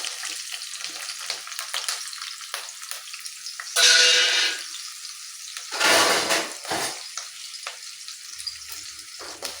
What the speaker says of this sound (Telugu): ఇప్పుడు ముందుగా సిద్ధపరచుకున్నటువంటి ఉల్లిపాయలు, పచ్చిమిరపకాయలు మొత్తం కూడా దీంట్లో వేయాలి